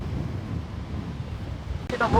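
Strong sea waves and gusting wind batter the coast in a steady, loud roar, with a sudden brighter surge of spray or wind noise near the end.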